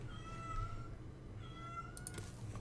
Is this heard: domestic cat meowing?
yes